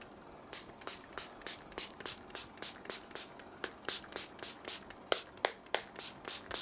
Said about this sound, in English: I'll spray my face using this classic spray